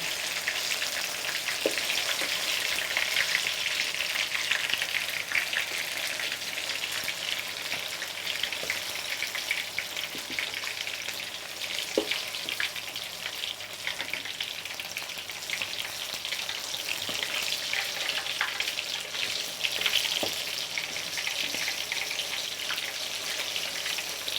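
Batter-coated bananas sizzle in hot oil, a dense continuous crackle and hiss that holds steady from start to finish, close and moderately loud, with a few sharper pops and no voices.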